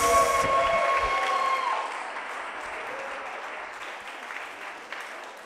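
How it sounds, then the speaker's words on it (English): Guests clapping at a wedding reception as the newlyweds are introduced, loud at first over music, then dropping to a softer, thinner patter of applause that tapers off. "big round of applause, ladies and gentlemen, new Mr. and Mrs. Martinez."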